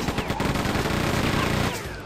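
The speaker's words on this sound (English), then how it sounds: "Let's use the chain gun for a change." A chain gun in Quake 2 fires a fast continuous stream of rattling shots, loud and close, steady for about two seconds before easing off.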